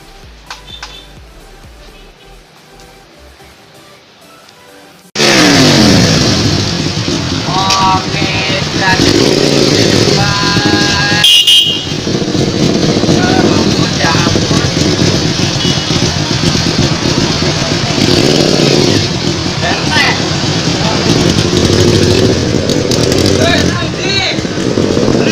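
Loud Honda motorcycle engine running and revving, a customized bike at a Suryanation 2018 show, starting abruptly after quiet and continuing steadily with rising and falling revs, with voices talking underneath.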